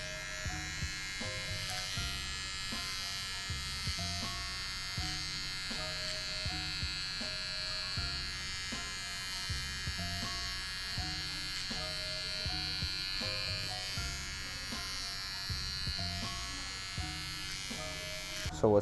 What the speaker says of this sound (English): Now I come through with my trimmer.